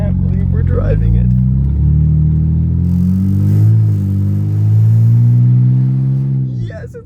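A BMW E90 325i, a flood-damaged barn-find car, runs smoothly while driving, its engine a loud, steady mid-pitched drone with a slight rise and fall, then cutting off near the end.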